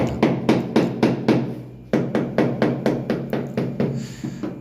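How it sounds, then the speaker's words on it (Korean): A hammer taps steadily on a floor tile being set on a stair step, a loud, close series of sharp knocks in an even rhythm, briefly pausing before the knocking resumes. "망치로 타일을 두들길 때"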